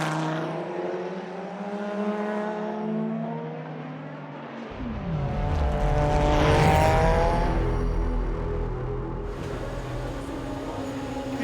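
V8, V10 and V12 race car engines, including Dodge Chrysler Vipers, roar loudly and continuously, revving and surging as the cars pass, with a rising, high-pitched scream through the middle; endurance racing at Montjuïc.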